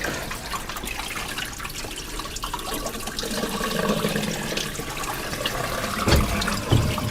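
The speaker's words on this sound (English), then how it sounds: "drain the dirty water" Dirty water runs out of a floor scrubber's drain hose in a continuous splashing gush with trickles and drips, close and fairly loud, no one talking.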